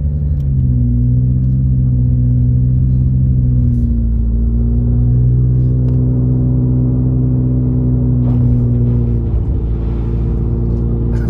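A snowplow truck's engine drones loud and close in a continuous low rumble, its pitch rising slightly as it revs and strains, with no talking.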